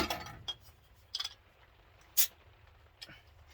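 A bottle of Yorkshire bitter beer is opened and handled near a glass, giving a few short clinks and a brief sharp hiss or pop, all close and fairly quiet with no voices.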